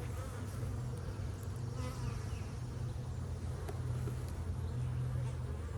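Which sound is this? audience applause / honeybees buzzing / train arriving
honeybees buzzing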